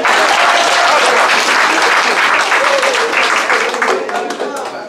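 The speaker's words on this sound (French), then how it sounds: "Il faut applaudir Asmara." Loud crowd applause for Asmara at a diaspora gathering in Paris, dense enthusiastic clapping mixed with cheering voices, strong and full before tapering off toward the end.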